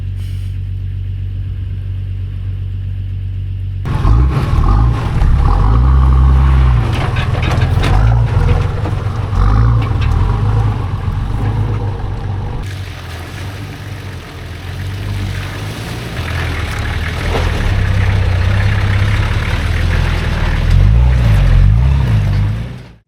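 A Nissan Patrol with a TD42 diesel engine drives off-road with its hubs unlocked, a loud continuous low drone with rumbling surges. Near the start a sudden jump in level marks it pulling away, and wind buffets over the noise.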